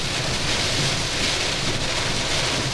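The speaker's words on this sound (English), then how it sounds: "So we're getting some extreme wind right now." Extreme wind near a tornado at night in DeWitt, Arkansas roars as a loud, steady broadband rush with heavy buffeting on the microphone and no voices.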